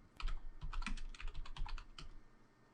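Brisk typing on a computer keyboard, a quick run of close, crisp key clicks in an irregular rhythm with no voices.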